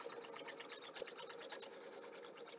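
A home sewing machine runs steadily for a short stretch, a soft, even mechanical whirring with a rapid stitching pulse, fairly quiet and heard on its own.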